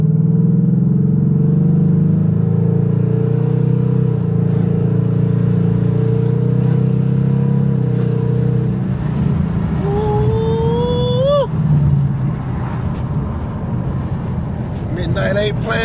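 A Ford Mustang engine rumbles low and steady at idle and cruise, then revs up in a rising whine before dropping back, loud and close from inside the car, with someone talking and a navigation voice giving directions.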